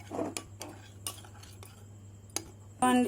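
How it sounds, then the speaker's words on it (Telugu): Spoon mixing custard powder with water into a smooth syrup for fruit custard: a few light clinks and scrapes of the spoon against a bowl, close and sparse over a low hum, ending in a brief louder clatter, with no talk. "నేనైతే నీరు వేసుకొని కలుపుకుంటున్నాను"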